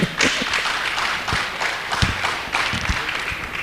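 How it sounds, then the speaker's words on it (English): Audience applause at a teachers' certificate award ceremony in Nigeria, a dense spread of clapping with a few sharper individual claps standing out, steady and moderately loud for several seconds. "Please join your hands together to clap for him."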